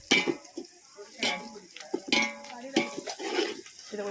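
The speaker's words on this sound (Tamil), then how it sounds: "இதை கொஞ்சம் பார்த்து கிளறுங்க. ஏன்னா இந்த ஸ்டீல் கரண்டிக்கும் அலுமினியம் சட்டிக்கும் நல்லா கீரல் விழுந்துட்டு." A steel ladle scrapes and stirs food in an aluminium pan, several distinct scraping strokes with light metallic clinks over a soft sizzle, close and fairly quiet, with faint voices in the background.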